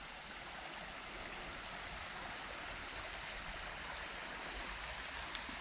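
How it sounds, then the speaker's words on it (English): A stream flows in and spills as a waterfall over a rocky ledge in the northern New England and Canadian watershed, a steady even rush of water heard alone with no talk. "Stream coming in, waterfall over the ledge here."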